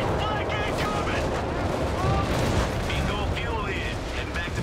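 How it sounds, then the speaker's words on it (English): Carpet bombing in the Company of Heroes 3 World War II strategy game lands as a rolling string of heavy blasts and gunfire, loud and dense, with a commentator talking over the battle. "Carpet bombing out the back."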